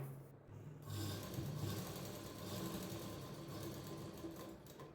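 A sewing machine runs steadily while stitching a finishing seam on a blouse, a continuous close whirring hum that holds for nearly the whole stretch after a brief quiet start.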